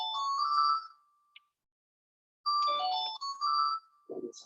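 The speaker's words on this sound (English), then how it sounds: "Get a phone call, I have to answer that in a minute" A phone ringtone for an incoming call plays two bursts of bright melodic electronic tones separated by about a second and a half of silence, close and clear.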